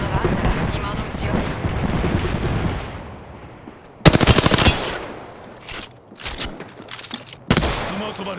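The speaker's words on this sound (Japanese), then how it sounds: "スマートバレット発射。" Apex Legends gunfire opens with a rumbling stretch, then comes as sharp, loud bursts of automatic shots separated by short gaps, with game sounds in the background.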